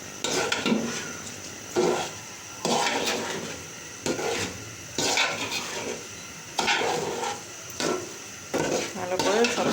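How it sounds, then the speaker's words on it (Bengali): Rice for biryani is stirred and fried in a pot, rhythmic scraping strokes of a spoon against the metal repeating every second or so over a soft sizzle, close and fairly loud, with no talk. "ভালো করে কিছুক্ষণ ভাজবো চালটা।"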